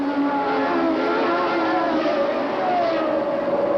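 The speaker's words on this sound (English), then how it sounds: "Now they come down for third gear into the chicane." Engines of 1981 Formula 1 race cars downshifting into a chicane at the Austrian Grand Prix, a loud continuous high-pitched drone with shifting pitch as the cars brake and change gear, steady throughout.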